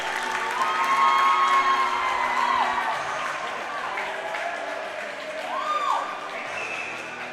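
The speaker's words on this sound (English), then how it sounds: "Suddenly the crowd here has come alive." Arena crowd at a men's quarterfinal hockey game cheering after a goal, a broad sustained roar that swells and slowly fades, with a commentator talking over it.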